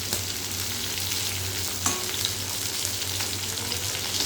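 Okra sizzles as it is lightly fried in a pan, a steady, close crackle of hot oil that runs unbroken, with a faint stir or tap midway and no voices.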